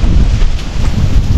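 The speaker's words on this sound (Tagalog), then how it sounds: "Umuulan. Tapos sobrang lakas ng hangin." Strong wind with rain roars steadily across the whole stretch, loud, close and buffeting like gusts striking a microphone, with no talk.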